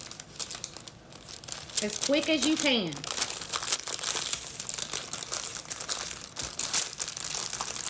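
Parchment paper crinkles and crackles up close while a pumpkin roll is rolled in a home kitchen, loud rustling that continues as a person talks over it.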